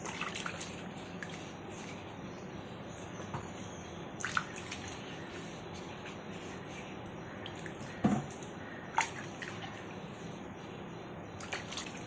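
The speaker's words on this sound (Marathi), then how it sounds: "आता आपण स्वच्छ अशी चोळून चोळून धुवून घेऊयात।" Raw mangoes are rubbed and washed in a basin of water: quiet sloshing and trickling with soft drips, broken by a few small splashes, low and close without talk.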